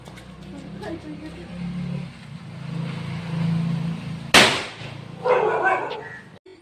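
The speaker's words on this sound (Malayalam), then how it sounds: "പേപ്പർ കത്തിച്ചിട്ട് അതിൽ പടക്കം ഇട്ടത്" At Diwali, a firecracker dropped onto burning paper goes off in one sharp, loud bang midway, after a low background hum and faint voices, with more noise trailing afterward.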